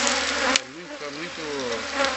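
Bees buzz steadily up close around honeycomb during honey harvesting, a dense insect hum with a few individual wingbeats drifting in and out.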